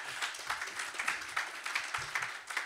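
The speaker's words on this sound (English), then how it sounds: "I think Antonio and Frank really need a total appreciation and applause for what they are doing." Audience at a conference session on combating hate speech applauding, a moderate crowd clapping in a pulsing, uneven rhythm with occasional louder clusters of claps.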